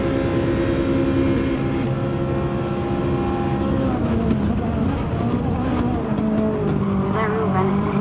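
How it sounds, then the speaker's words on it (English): Ferrari 458 race car at Spa in a racing game drafts and overtakes another car, its engine a loud steady howl with shifting pitch and faint tire noise. "Me drafting someone in the Ferrari and overtaking them."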